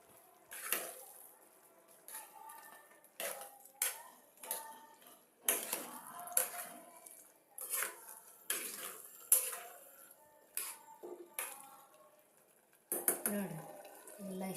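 A metal spoon scrapes and clanks around a cooking pot in repeated bursts as food with jaggery is stirred and mixed, close and fairly quiet, with brief pauses between strokes.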